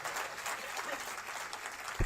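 Audience applause at the book launch of The Great Enigma, about Sharad Pawar, a dense continuous clapping from a crowd, lasting about two seconds.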